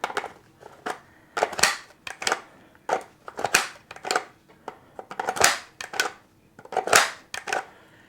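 WBP magazines being pushed into and pulled from a Pioneer Arms AK rifle, giving a string of sharp, close metallic clacks and snaps in an uneven rhythm, some loud, others softer, with brief quiet between.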